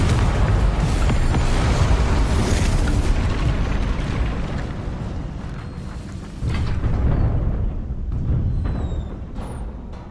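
A Confringo fire spell in Hogwarts Legacy bursts with loud, sustained explosive roaring and crackling, swelling again in a second blast near the end.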